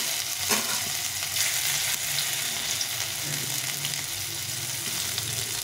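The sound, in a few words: crushed ginger frying in oil for dal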